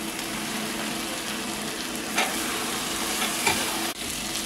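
Lady's finger (okra) frying on a low simmering flame, a steady close hiss of sizzling oil with a couple of faint utensil clicks and no talking.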